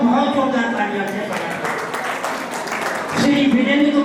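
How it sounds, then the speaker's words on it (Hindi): Applause at a Holi festival gathering, with a crowd clapping for a few seconds between stretches of someone speaking over a loudspeaker. "इनके लिए बहुत बहुत जोरदार तालियां से"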